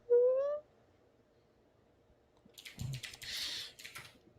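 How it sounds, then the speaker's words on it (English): Clicky computer keyboard typed on in quick, uneven bursts of sharp keystrokes during the second half, preceded by a brief tonal whistle, otherwise quiet and close. "can probably hear my clicky keyboard"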